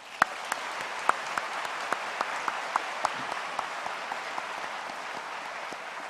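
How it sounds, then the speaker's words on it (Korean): A church congregation applauds during a Sunday evening worship service, a steady wash of many hands clapping with a few sharper claps standing out, sustained throughout at moderate distance. "박수하겠습니다."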